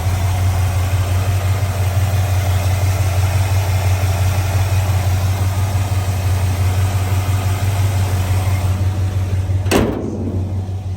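A 1965 Chevrolet C10 short bed Fleetside pickup engine idles with a steady, smooth low rumble at close range, unbroken for the whole stretch, with a brief sharp knock near the end.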